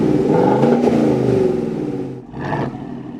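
A 2019 Chevy Silverado fitted with a Corsa Sport exhaust revs hard in a loud, aggressive roar that climbs and fades, followed by a second shorter blip of the throttle, close up with no talking.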